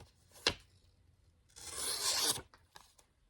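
A Nitro-V steel knife is sharpened freehand on a stone. A short scrape comes first, then after a pause a longer gritty rasping stroke, followed by a couple of faint brushes. The strokes are quiet and close.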